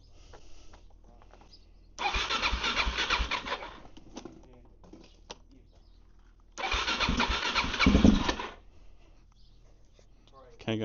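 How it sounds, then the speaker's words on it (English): A motorcycle with 6,652 km on it is started twice with the clutch held in; each attempt brings a loud broadband burst of cranking and catching engine lasting about two seconds, separated by quieter handling noise and faint voices. "you got to hold the clutch in when you start"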